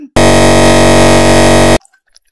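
A loud censor bleep cuts into an Indonesian talk discussion, one steady harsh buzzing tone lasting about a second and a half, starting and stopping abruptly with near silence on either side.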